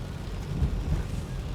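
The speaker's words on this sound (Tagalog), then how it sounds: "umuulan ng malakas" Steady heavy rain roaring continuously with a deep rumbling low end during flooding, no voices, dense and close throughout.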